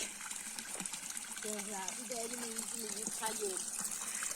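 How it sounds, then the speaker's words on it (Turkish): Water runs from an outdoor drinking fountain in the countryside, a steady splashing flow under people talking and calling out nearby. "Çeşmede su içiyek şimdi."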